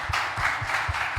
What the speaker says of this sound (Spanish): También le damos un aplauso.